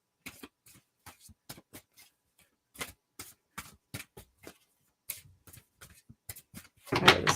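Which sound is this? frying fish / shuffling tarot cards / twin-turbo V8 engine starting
shuffling tarot cards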